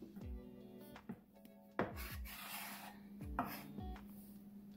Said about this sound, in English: I'm just going to slice the onion thin and I'm going to cut it up